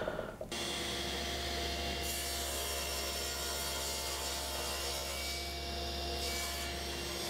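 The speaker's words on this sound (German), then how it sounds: "Und dann werden die Fronten nochmal nachgeschliffen und die Kanten gebrochen." Steady, continuous sanding of oak furniture drawer fronts, a close, even abrasive hiss with a low hum running throughout, without pauses or voices.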